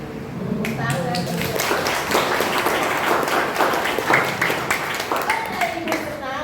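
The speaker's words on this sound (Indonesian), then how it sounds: "Tepuk tangan." A classroom of children applauding together, a dense, steady wash of many small hands clapping at close range, with scattered young voices mixed in throughout.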